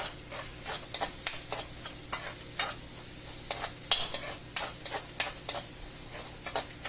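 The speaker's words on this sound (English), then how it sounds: "Continue stirring for a nice golden brown color." Onions frying for paneer butter masala sizzle steadily in the pan while a spoon scrapes and taps against it in a regular rhythm of short strokes, with no voices.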